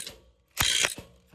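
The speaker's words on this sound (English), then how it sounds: "This impact gun is actually pretty messed up, so it looks like I'm putting a bunch of torque on this bolt." A worn, long-used impact gun works a bolt during rear brake service on a 2012 Ford F-150 5.0L V8, giving one short, close rattling burst followed by a brief second tap, with no talk.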